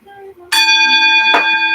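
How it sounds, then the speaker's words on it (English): A bright, resonant bell rings out loud and close, struck twice with a long sustained ring after each strike, following a softer tonal note at the start. "Ring that bell."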